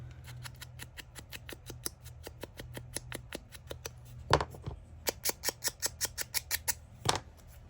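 Scissors trim along the bottom edge of a paper page for junk journal tabs, a close, rapid, even series of crisp snips with a couple of louder rustles in between.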